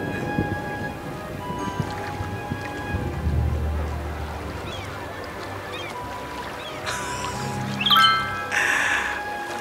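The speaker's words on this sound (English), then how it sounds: "It's raining too, wow." Steady rain falls in the Cities: Skylines city-building game, a soft continuous hiss under a low rumble like distant thunder, with scattered game chimes and tones.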